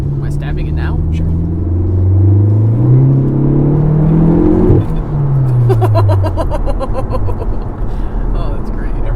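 A Mk7 Volkswagen Golf with an IS20 turbo accelerates hard, its engine note sweeping upward and falling back as it shifts, then climbing again, loud and close from inside the cabin with people talking over it.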